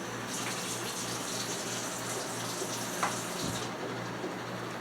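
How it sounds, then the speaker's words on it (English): Warm water runs steadily from a kitchen tap as cornstarch glue is mixed for sealing egg rolls, a soft continuous gushing stream with a couple of faint knocks, fairly quiet and alone. "And then I'm going to add a little warm water"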